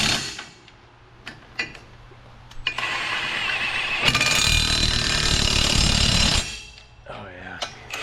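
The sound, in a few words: tightening master link bolts on a 450 dozer track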